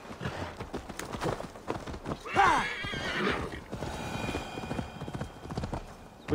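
Horse hooves clip-clop and a horse neighs loudly in the Viking-era open-world game Assassin's Creed Valhalla, the whinny rising sharply mid-clip over steady galloping footfalls and game ambience.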